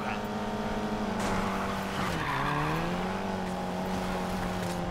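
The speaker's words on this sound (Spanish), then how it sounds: "¿Cómo corre el GTI, chaval?" A Volkswagen Golf GTI racing in Need for Speed Payback: a steady, buzzing engine drone that dips in pitch midway and climbs again, with tire squeal and someone speaking over it.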